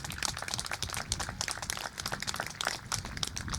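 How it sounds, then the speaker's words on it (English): Dense, steady applause from a graduation crowd at Moreno Valley High School honoring staff and family members, many hands clapping at once in a continuous, fairly distant wash. "Give our staff members and family members a round of applause"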